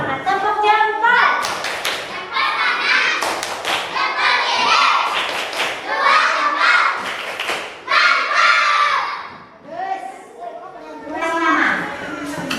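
A group of young children in an Indonesian classroom perform a thumb clap and spirit clap chant, rhythmic bursts of clapping and thumping mixed with loud shouted chanting and a teacher's voice.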